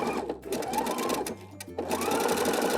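A sewing machine stitches a fabric strap on a heart-shaped wrist pin cushion, running in fast steady bursts with short pauses and a quick back stitch, close and loud.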